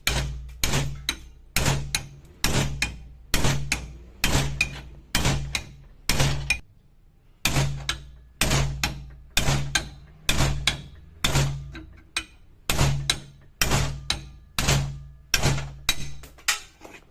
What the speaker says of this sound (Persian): بازم با ضربات چکش